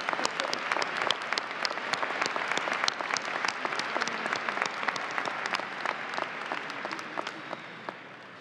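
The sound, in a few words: audience applause at a college commencement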